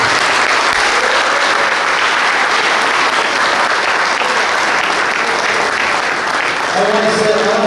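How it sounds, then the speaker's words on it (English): Parents and guests at a boys' lacrosse banquet in a fire department hall break into loud, steady applause that fills the room, with a voice starting to speak over it near the end. "just give a round of applause for all the parents at every level"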